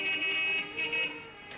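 A car horn honks in a Hindi film scene, a few nasal toots of uneven length close by, the last one trailing off with a short blast at the end and no speech over it.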